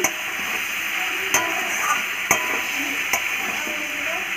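Curry being stir-fried in a pan, a steady close sizzle broken by three sharp scrapes of a spoon against the metal.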